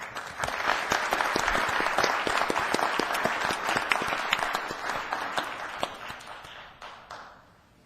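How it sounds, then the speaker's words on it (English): An audience at a regular city council meeting breaks into sustained applause, a dense patter of many hands that holds steady and then tapers off near the end, with no talk over it. "Let's give him a round of applause."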